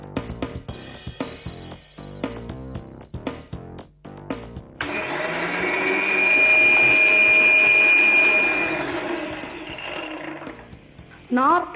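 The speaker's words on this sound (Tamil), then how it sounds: "இப்போ நம்ம இந்த புதினாவை மிக்சியில் போட்டு அரைக்க போகிறோம்" Mint leaves blend in a mixer grinder: after some clattering handling and talking, the motor whirs in a loud, steady drone for several seconds, then stops abruptly.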